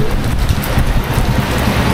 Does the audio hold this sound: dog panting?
no